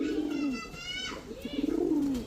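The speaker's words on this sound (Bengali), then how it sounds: "নরের লগে নরে ডাকা শুরু করে দিছে" A male Kaldom pigeon coos close by, two or three rolling, swooping calls with brief pauses between, clear and fairly loud with no speech over them.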